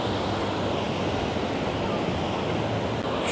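Sea waves wash steadily onto a beach at a sunset viewpoint near beach clubs, forming a continuous broadband surf roar that stays loud and even throughout, with some wind and no clear talk over it.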